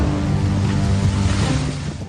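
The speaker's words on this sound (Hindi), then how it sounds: "मांडवी में भी समंदर की ऊंची ऊंची लहरें लोगों को डरा रही हैं।" High seas from Cyclone Biparjoy pound the shore at Mandvi, a loud, continuous roar of crashing surf mixed with heavy wind buffeting the microphone.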